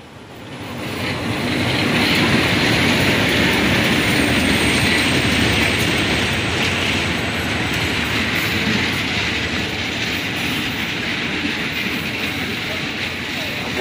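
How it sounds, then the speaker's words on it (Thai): Ordinary train 262 pulls into platform 2 at Ratchaburi station in Thailand with a loud, continuous rumble and wheel noise, a high squealing tone carried above it as it arrives. "262นะครับเข้าชานชาลาที่2ครับ"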